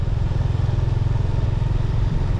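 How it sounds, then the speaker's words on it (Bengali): A motorbike rides along a winding road on the Kaptai–Rangamati route, its engine a loud, steady, close low drone with constant rumbling pulses and no pause. "গিয়ে আমরা বাইক নিয়ে যাচ্ছি।"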